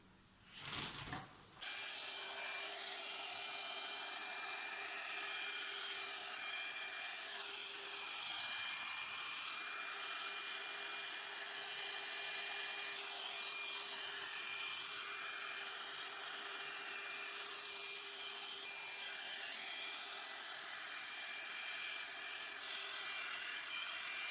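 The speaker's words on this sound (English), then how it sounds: "So I'm gonna use my blow dryer with the attachment." A hair dryer fitted with an oval attachment roars steadily after a brief click and start-up, a loud, constant airy whoosh with a faint whine, running nonstop close to the listener.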